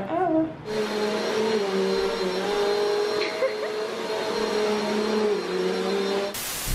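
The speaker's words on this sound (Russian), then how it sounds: "пылесосишь и не моешь полы?" A household vacuum cleaner runs steadily and loudly for most of the clip, a continuous droning whine that starts abruptly after a short pause and cuts off near the end.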